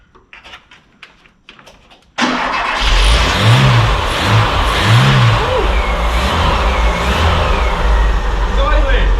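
An old Volvo 340 left abandoned for 25 years, its engine starting abruptly after faint clicks and then running with a loud, rough, slightly revving idle, with people talking over it.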